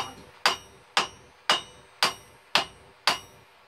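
Blacksmith's hammer striking metal at a forge, seven evenly spaced ringing blows about half a second apart, close and loud, each with a short metallic decay and no talking.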